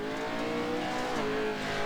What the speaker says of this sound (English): You can hear William feathering the throttle trying to get his truck to rotate